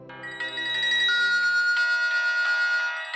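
A mobile phone ringtone sounds for an incoming call, a bright melodic electronic tune played alone at close range.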